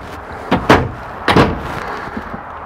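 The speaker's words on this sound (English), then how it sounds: "Nice big pantry door." The large pantry door of a 2016 Holiday Rambler Admiral motorhome is handled: a couple of solid thumps and latch clicks, close and moderately loud, with no talking.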